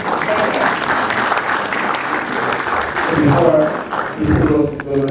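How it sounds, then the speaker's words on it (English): Audience at a mayoral forum breaks into steady applause, a sustained burst of clapping with a voice speaking over it toward the end. "please hold your applause until the end of the answer"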